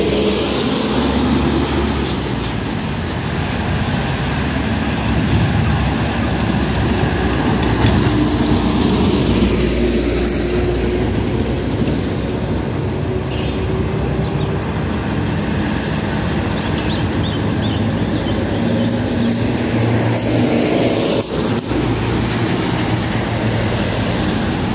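A brown bus engine labours up an extreme steep climb on the Bukit Padak road, a loud, steady, droning roar that stays close and continuous throughout, with no voices.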